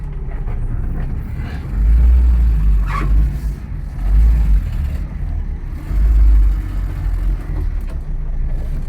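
A car backing up slowly in reverse after being set to an economy drive mode, a steady low engine rumble with a few swelling surges, close and continuous, no talking.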